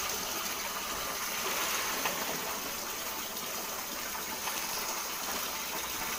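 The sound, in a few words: water while rinsing laundry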